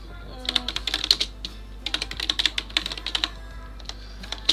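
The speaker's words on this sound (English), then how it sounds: "I'm like having trouble typing" Bursts of rapid typing on a computer keyboard, close and clear, with irregular clusters of keystrokes separated by short pauses.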